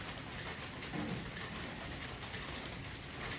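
Morning rain falls steadily in a mountain setting, a dense even patter with no talk over it.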